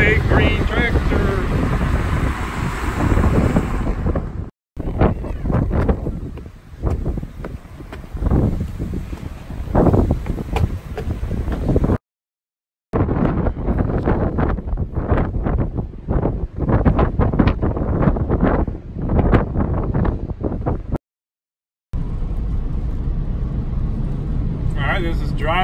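Wind buffets an iPhone XR microphone outdoors in loud, gusty rumbling bursts, broken by a few short silent cuts.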